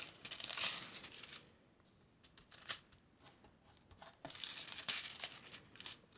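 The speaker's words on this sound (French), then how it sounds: "je viens, hop, mettre du foil là où j'ai mis la colle" Gold foil crinkles and rustles in short bursts as it is pressed and rubbed onto glue on a wooden bookmark; close and fairly quiet, with brief gaps of near silence between the crackling handling.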